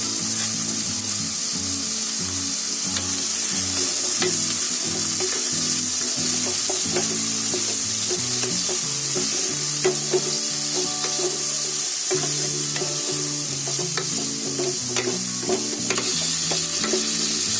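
Steady, loud sizzling of onion and chili frying in a hot pan with oil, continuous throughout with occasional stirring scrapes and no talking.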